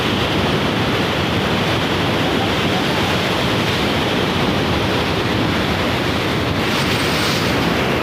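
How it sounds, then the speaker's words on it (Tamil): Heavy water roars through dam barrage gates, a dense, continuous, loud rush with no pauses and no voices over it. "ஃபுல்லாக தண்ணி பிச்சுட்டு போகுது."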